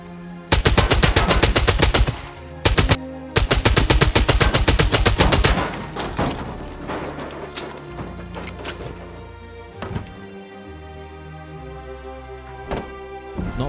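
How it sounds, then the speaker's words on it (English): Automatic gunfire in the survival game Rust, several loud rapid bursts in the first seconds, then scattered single shots and clanks with in-game ambience, no talking. "I'm gonna have to shoot it."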